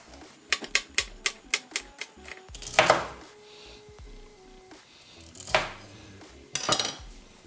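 A knife chops celery on a cutting board in a steady run of close, crisp knocks, followed by a few scattered louder clatters and scrapes.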